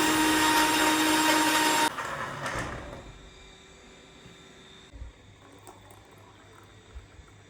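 A kitchen blender whirs loudly, blending beetroot into juice for about two seconds, then cuts off, leaving a quieter room with faint clatter and a soft thump.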